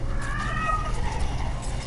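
A cat meows once, brief and fairly clear, over a steady low hum of background noise, with faint mechanical clicking during an Overwatch match.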